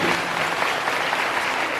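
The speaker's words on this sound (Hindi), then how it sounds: "ताली हो जाइए अपने" An audience in a Catholic parish gathering in Jalda, Rourkela, applauds, a steady dense wash of many hands clapping at once for the full stretch, with no voices standing out.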